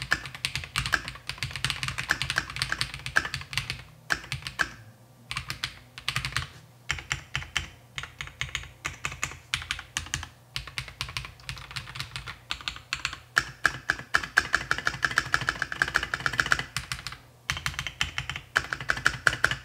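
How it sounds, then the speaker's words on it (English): Rapid clacking of keys on a KiiBoom Phantom 81 mechanical keyboard, typed in quick bursts with short pauses, close and crisp, no talking. "The sound profile while typing is very pleasant to listen to"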